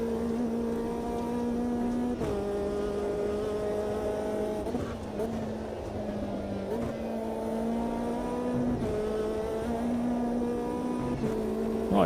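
A turbocharged race car in Automobilista 2 drones steadily at high revs, its pitch climbing through each gear and dropping sharply at every shift in a repeating pattern, loud and close.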